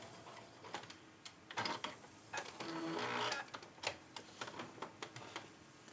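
A sewing machine stitches the lining of a zipper pouch with backstitching, giving irregular bursts of quick mechanical ticking and clicking and a short steady run in the middle, all fairly quiet.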